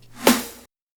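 Reverse snare swelling upward into a snare hit in a drum production, a single rising noisy swoosh that peaks sharply and then cuts off into silence.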